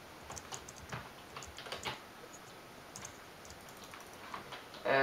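Typing on a computer keyboard in quick, irregular bursts of soft clicks, fairly close and quiet, with short pauses between runs of keystrokes.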